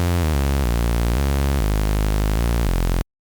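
A buzzy, distorted saw noise bass synth built in Serum plays a short stepped melody of sustained notes, loud and dense with harmonics, then cuts to silence.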